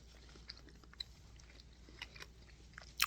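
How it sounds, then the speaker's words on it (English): Someone chews a raw habanero pepper up close, soft wet mastication with small irregular crunches and a louder bite near the end, no talking. "Excuse me while I chew for a second."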